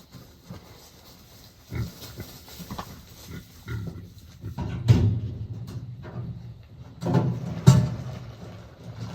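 Hungry pigs grunt and snort at their feeder on a homestead, with irregular close bursts of grunting and a few louder squeals over clattering.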